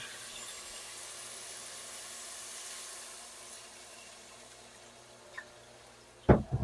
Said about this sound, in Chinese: 然后这个时候就可以加水了